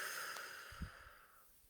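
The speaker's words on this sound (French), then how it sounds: "Prenez une profonde inspiration et expirez profondément par la bouche." One person takes a deep breath in and exhales through the mouth during a guided meditation, a soft, close breathy sound fading over about a second and a half.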